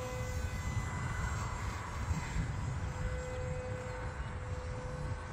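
Hobbyzone Aeroscout RC trainer airplane in flight outdoors, its electric motor giving a steady, continuous drone with a faint high whine, close and even throughout with no voices.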